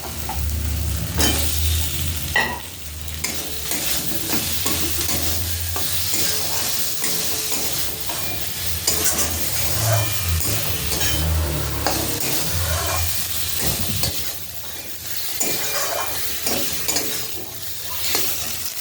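Pre-fried potatoes sizzling in a hot pan while being stirred, a constant loud frying hiss punctuated by scraping and clanks of the utensil against the pan, with no talking.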